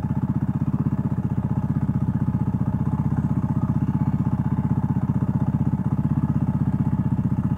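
A Kawasaki Meguro S1 (W230) motorcycle engine chugs steadily with a fast, even pulse, close and continuous, with no talking.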